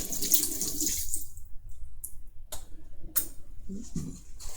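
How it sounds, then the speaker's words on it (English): A kitchen tap runs into the sink while a spatula is rinsed, short bursts of splashing water that start and stop as the utensil moves under the stream. "Rinse off the spatula."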